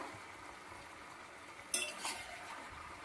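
Softened vegetables get a brief stir in a pan, a quiet low background followed by a sharp scrape and clink of a spoon against the metal around the midpoint, then faint sizzling.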